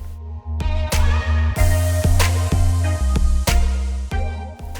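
Chopped ginger stirred while frying in a pan for ginger pickle, heard as a steady loud sizzle with repeated sharp scraping and clanking of the spoon against the pan.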